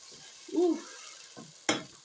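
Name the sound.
onion and garlic frying in a pan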